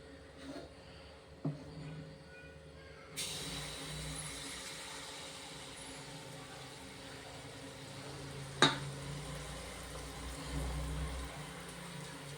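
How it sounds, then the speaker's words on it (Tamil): Sweet appam batter, tea-shop style, poured straight into hot oil: a soft, steady sizzle of frying close by, with a few faint clicks and knocks of utensils. "இதை நம்ம எடுத்து டைரெக்டாக எண்ணெயில் ஊற்றிக்கலாம்."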